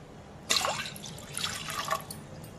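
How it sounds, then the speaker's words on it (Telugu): Water is poured into a pot of milk, with a short close splash and trickle that starts suddenly, fades, then rises again briefly before quieting, and no voices. "ఒక పావు లీటర్ వరకు వాటర్ పోసాను."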